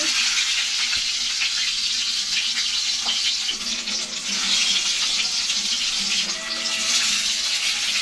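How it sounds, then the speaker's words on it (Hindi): Potatoes frying in fully heated oil in a pan for a steamed aloo roast, giving a steady, close crackling sizzle with no talking over it. "पहले एक साइड को फ्राई करना है और फिर दूसरी साइड को फ्राई करना है"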